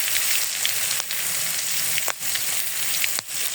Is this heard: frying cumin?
yes